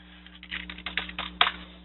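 Quick, light clicks of fingers typing on a computer keyboard, an irregular burst of keystrokes close by in a quiet room.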